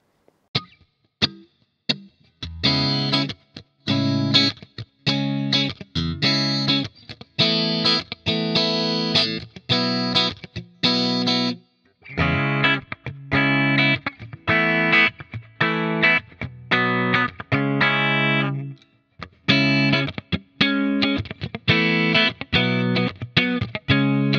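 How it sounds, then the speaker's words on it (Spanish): Electric guitar through a Fractal Audio FM3 set to a Mesa Boogie JP-2C clean tone with compression and reverb, playing rhythmic chopped chords in short bursts with brief gaps, alone and clear with a short reverb tail. "Primero vamos a poner un poco de reverb que tengo yo para darle un poco de espacio al sonido."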